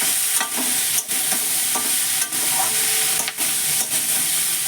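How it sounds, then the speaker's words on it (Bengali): Onion greens are sautéed and stirred in a pan while cooking a tengra fish curry, a steady close sizzle broken by several sharp scraping strokes of the spatula, with no talking. "আর এই যে পেঁয়াজ কলি এটাকে দিয়ে ভালো করে একটু কষিয়ে নেব"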